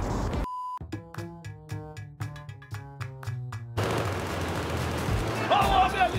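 A series of evenly spaced gunshots pops in a quick rhythm over a tonal game soundtrack in Battlefield 4, followed by a noisy wash with a brief voice.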